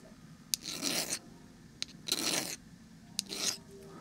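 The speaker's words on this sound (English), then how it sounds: "I take a file and just kind of deburr it here." A metal file deburrs a screw from a vintage .22 rifle, three close rasping strokes with light clicks between them, fairly quiet and with no voices.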